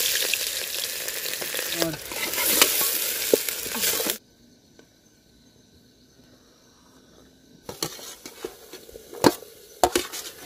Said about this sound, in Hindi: तो मैं दाल चलाता हूँ